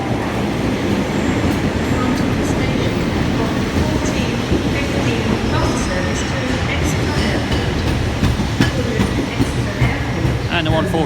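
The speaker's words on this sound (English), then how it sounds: "143619 at the back of the Exeter service coming in now" Class 143 diesel multiple unit 143619 pulls into Exeter St David's at the back of an Exeter service, a steady broadband rumble of wheels and engine close by throughout, with faint clatter and no clear talk.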